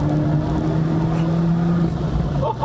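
An Abarth 124 Spider drives at speed, its engine note steady and loud from inside the cabin with the windows down, with road and wind roar beneath.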